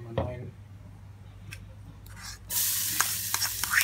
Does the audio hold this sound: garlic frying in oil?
yes